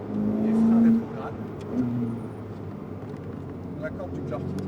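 A Ferrari F8 engine on the Circuit du Laquais, heard from inside the car under hard braking, gives a loud rev that drops through a quick downshift and then a second shorter blip, with an instructor talking over it.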